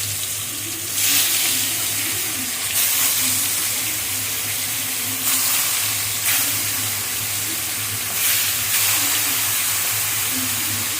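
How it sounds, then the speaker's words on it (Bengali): Salted pieces of koi fish frying in hot oil in a wok, a loud continuous sizzle that swells in bursts every couple of seconds, with no talking. "মাছটা আমি কড়াই দিয়ে দিচ্ছি।"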